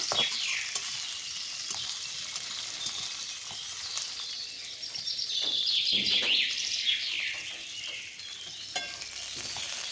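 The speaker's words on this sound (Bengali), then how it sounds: "এখন দিয়ে দিচ্ছি কিছু কেটে রাখা আলু এখন দিয়ে দিচ্ছি কাঁচা পাকা লঙ্কা এখন একটু আমি ভাজা ভাজা করে নেব" Cut potatoes and green and red chillies frying in a pan give a steady, close sizzle with scattered crackles, with faint bird chirps in the background and no talking.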